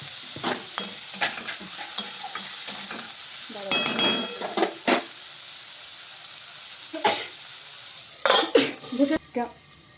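Carrot and tomato frying in a pan, with a soft continuous sizzle broken by irregular clinks and scrapes of a spatula against metal, several quick bursts of stirring, and a lid clattering near the end.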